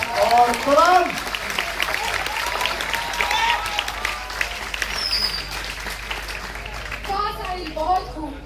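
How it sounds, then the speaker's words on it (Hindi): An audience at a Hindi poetry recital at IIT (ISM) Dhanbad claps loudly and steadily, a dense wash of applause that fades slightly, with voices calling out over it. "एक बार जोरदार तालियां साहिल के लिए"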